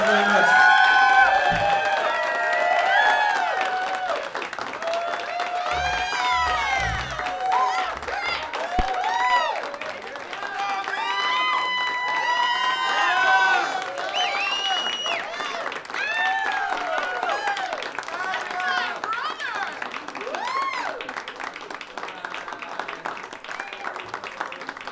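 Audience at an open music session applauds and claps steadily, with whoops, shouts and chattering voices mixed in throughout.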